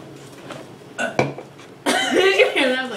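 A loud, drawn-out burp during a burping contest, following a short gulp, close and prominent over faint background noise.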